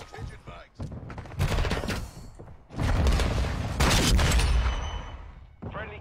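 Rapid bursts of shotgun and automatic gunfire in a Call of Duty multiplayer match, loud cracks and thuds clustered in irregular volleys with quieter gaps, voices mixed in.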